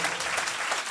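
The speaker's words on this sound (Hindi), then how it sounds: "अगर ये कलाम के लिए तालियां हैं" A church congregation claps during a Sunday sermon, a short, dense burst of steady applause from many hands in a large room.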